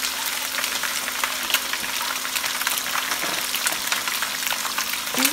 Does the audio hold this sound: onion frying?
yes